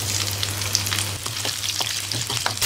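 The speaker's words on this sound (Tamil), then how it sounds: "உளுத்தம்பருப்பு, கடலைப்பருப்பு நல்லா வறுத்துக்குங்க." Urad dal and chana dal roast in hot oil with mustard seeds, a loud close sizzle broken by quick crackles, pops and stirring scrapes, with no voices.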